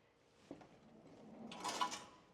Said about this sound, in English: I'm going to pull the door shut in the front.